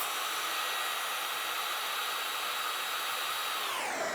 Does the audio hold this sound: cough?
no